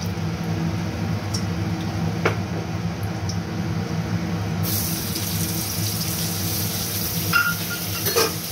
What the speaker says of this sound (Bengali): আমি আগে কাজু কিশমিশগুলো একটু ভেজে তুলে নিই।